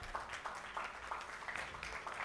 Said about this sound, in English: Ladies and gentlemen, I would like to applaud him for receiving the next